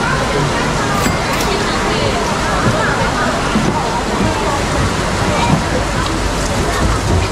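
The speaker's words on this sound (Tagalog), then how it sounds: "Grabe guys, ang lakas ng ulan." Heavy rain pours at the Taipei Zoo, a dense, continuous hiss and wash of water that stays loud and unbroken throughout, with no clear talk over it.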